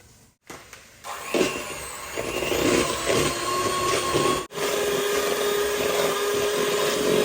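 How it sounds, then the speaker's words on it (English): An electric mixer whisks margarine in a bowl during home cake baking, its motor starting with a few bumps and then whirring steadily and loudly, with one brief cut near the middle. "we're going to first keep whisking the margarine till it's nice and fluffy"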